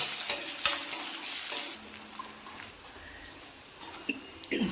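Ginger and garlic frying in a pan for an old-style thick chickpea curry, stirred with a few sharp scrapes at the start, then a softer, quieter sizzle that settles low and steady.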